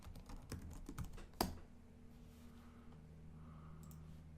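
Typing on a computer keyboard, a quick run of faint close key clicks ending in one sharper tap, then quiet room hum, with no talk.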